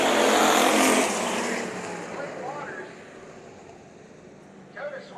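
Race cars roar away at the green flag of a heat race at Bakersfield Speedway, engines loud at first then fading into the distance, with an announcer talking over the noise.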